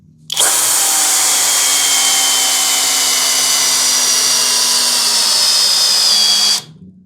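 A Hanabi LJ-2023 cordless drill spins up sharply, whines steadily while boring a hole for about six seconds, then stops abruptly, loud and close with no talk.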